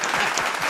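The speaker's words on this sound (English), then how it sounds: "We got to clap again." Brief burst of audience applause at a real estate funding talk, dense overlapping claps in a crowd, loud and close, lasting under a second.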